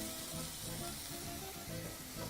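Chopped red onions sizzle in a hot pan on lowered heat, a steady dense crackle that holds evenly throughout without pause.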